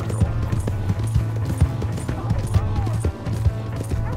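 A horse gallops in Red Dead Redemption II, rhythmic clip-clop hoofbeats repeating steadily and fairly loud alongside game sounds.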